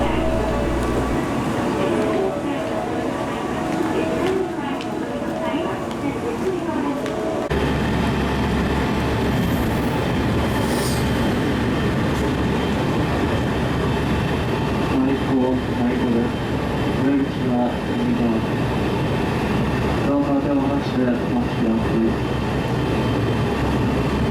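Steady low rumble of a train rolling along rails, with rhythmic clatter and faint squeals over continuous mechanical noise; a voice is heard at times.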